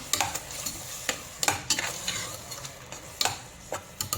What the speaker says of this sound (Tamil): இப்போ நம்ம அரைச்சி வச்சுருக்கிற இஞ்சி பூண்டு பேஸ்ட் வந்து இது கூட சேர்த்து நல்லா வாசனை போகிற அளவுக்கு வந்து வதக்கிக்கலாம்